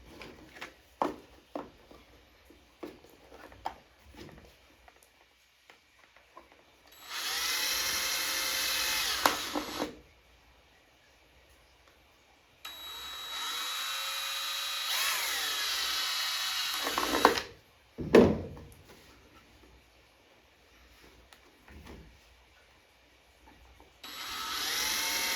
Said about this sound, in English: I'm actually going to drill into the box